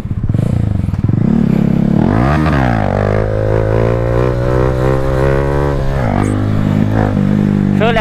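Stunt motorcycle with a newly fitted clutch ridden in strong crosswind; the engine revs up sharply, then holds a loud, close, steady drone, overlaid by rushing wind noise.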